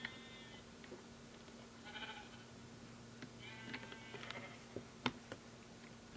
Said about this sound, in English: Look, a load of sheep.